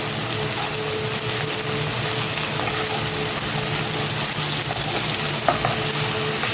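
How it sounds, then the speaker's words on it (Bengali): Vegetable peels from three kinds of vegetables and bori sizzle steadily in hot oil, a continuous close frying hiss with faint stirring scrapes and one small clink, no voices. "আমি ভালোভাবে তেলের মধ্যে বড়ির সাথে নেড়ে নেব।"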